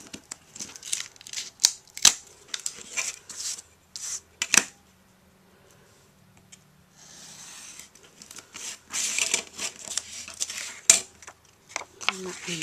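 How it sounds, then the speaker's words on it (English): Craft knife slicing through a layered paper card while cutting out an embossed top layer, heard as scattered scraping and tearing strokes with sharp ticks and a brief lull midway, close and moderately loud. "all you have to do is just find it and use your craft knife and cut it out."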